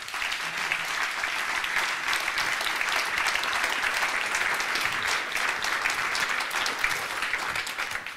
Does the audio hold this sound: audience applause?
yes